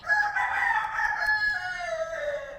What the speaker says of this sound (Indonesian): ini soalnya di rumahku itu ada ayam guys